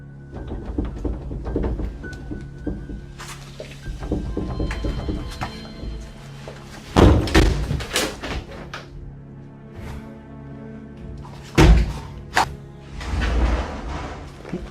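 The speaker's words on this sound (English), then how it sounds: "some of the doors behaved quite bizarrely" Doors creak and bang in an otherwise quiet space during a ghost investigation, with scattered knocks and two sharp, loud slams standing out partway through.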